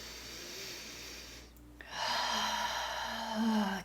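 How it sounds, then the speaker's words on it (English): A long, deep breath drawn in through the nose and mouth, close and clear, a soft inhale followed by a brief pause and then a louder, airy exhale, with no speech. "Taking another deep breath here."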